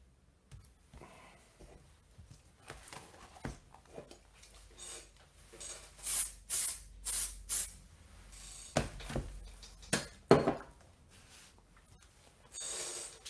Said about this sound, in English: Okay, spray fix again.